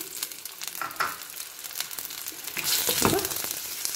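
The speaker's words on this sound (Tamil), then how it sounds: "வெங்காயத்தோட கலர் கொஞ்சம் சேஞ்ச் ஆகிற வரைக்கும் வதக்கணும்" Sliced big onions fry in oil in a pan for a white pumpkin sabji, giving a soft crackling sizzle with scattered stirring scrapes that swells louder toward the end.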